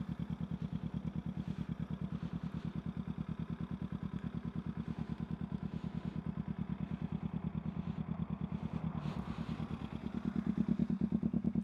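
2014 Kawasaki Z250 motorcycle idling with a quiet exhaust, a steady low rapid thrumming pulse that holds even throughout and rises slightly near the end, close by with no talking.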